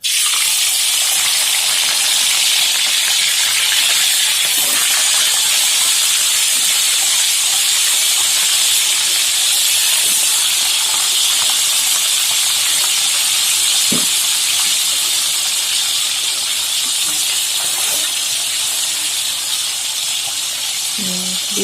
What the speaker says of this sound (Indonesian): Dulu goreng ikannya